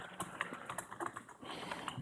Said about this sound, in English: just type anything on it and just say hello